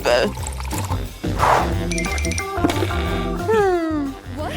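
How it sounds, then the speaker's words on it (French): Liquid is poured into a glass for an experiment with activated charcoal, a brief splashing pour heard close up amid loud talking voices. "Nous devrions le verser dans un verre et ajouter du charbon actif."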